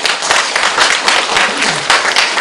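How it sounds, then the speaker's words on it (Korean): An audience at a Buddhist talk claps loudly and continuously, a close, dense burst of many hands with no pause. "박수 쳐!"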